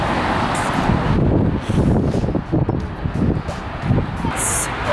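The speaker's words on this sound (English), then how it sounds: "It's so windy." Strong, cold wind near Alcatraz in San Francisco, roaring and buffeting loudly against the microphone in continuous gusts, with faint road traffic in the background.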